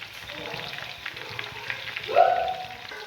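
Chicken kebab pieces fry in oil, a soft, steady close sizzle with light crackles and a brief louder hiss near the end.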